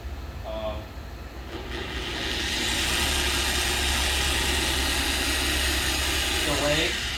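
A Maxshine M8 Pro polisher spins up with a delayed start, its motor hum swelling gradually over a couple of seconds into a steady, close whir that holds level to the end.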